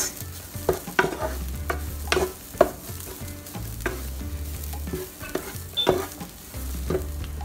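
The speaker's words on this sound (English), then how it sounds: "dry fry it until the cauliflower is cooked" Cauliflower rice dry fries in a pan, with a steady low sizzle broken by repeated sharp scrapes and taps of a utensil stirring it, close and fairly loud with no voices.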